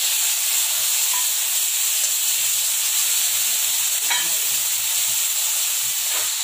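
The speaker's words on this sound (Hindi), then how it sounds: "30 से 40 सेकेंड भुनने के बाद इसमें एक मीडियम साइज का कटा हुआ टमाटर ऐड करेंगे।" Chopped medium tomato frying with spices in a pan for fried idli, a loud, continuous sizzling hiss with occasional faint scrapes of stirring, close and steady throughout.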